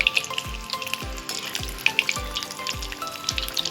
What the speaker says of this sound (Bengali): আর একটা ভাজা চলছে, দেখুন।